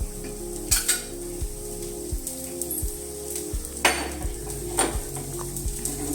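Kulluku rottai cooks in oil on a pan with a steady close sizzle, and light scraping and utensil clicks land at regular intervals.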